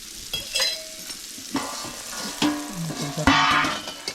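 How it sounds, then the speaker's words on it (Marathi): Fish slices from a freshly caught one-kilo fish fry in a pan as oil is poured over them, giving bursts of crackling sizzle between clinks and scrapes of utensils, up close, with no talk. "आता वरून थोडंसं तेल टाकते आई"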